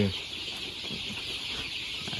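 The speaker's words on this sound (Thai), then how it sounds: "นี่ครับไก่อายุยังไม่ถึงเดือนเลยฮะ" A flock of chicks under a month old, a three-breed crossbred type, peeps and clucks steadily in a continuous busy chorus at moderate level, with faint low rustling beneath and no talk.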